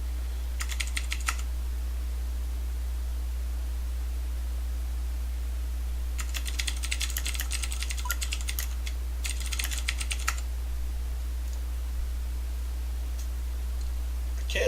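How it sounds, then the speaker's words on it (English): Bursts of clicky mechanical keyboard typing with Cherry MX Blue switches, coming in three or four clusters of rapid keystrokes separated by pauses, close and fairly quiet over a low steady hum. "I like a good solid clicky keyboard."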